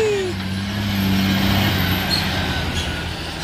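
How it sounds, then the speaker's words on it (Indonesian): Tanker truck rolling down a hill road at Bukit Kodok, a steady loud engine drone with a faint rising air-brake or whine tone near the start, continuous for a few seconds. "ini ada truk tangki."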